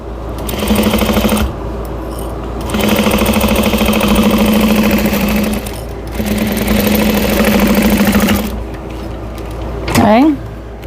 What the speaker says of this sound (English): I'm going to sew it at 1/4 inch, back stitching at the beginning and the end.